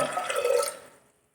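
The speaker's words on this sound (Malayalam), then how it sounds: "ഒരു കപ്പ് കടലയ്ക്ക് മൂന്ന് കപ്പ് വെള്ളം ഒഴിച്ച് കൊടുക്കുന്നുണ്ട്" Water is poured into a pressure cooker holding washed chickpeas for kadala curry, a short, splashy pour at close range that tapers off into silence.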